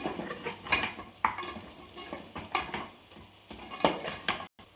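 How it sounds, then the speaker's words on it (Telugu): A spoon stirring spices scrapes and clinks against a metal pot in irregular strokes, with a faint sizzle beneath, close and fairly quiet. "ఇప్పుడు అన్నీ కలుపుకొని ఒకసారి"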